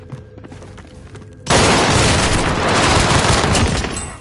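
Heavy video game gunfire erupts after a quieter stretch, a loud, sustained barrage of shots filling the rest of the moment, close and dense with no talk over it.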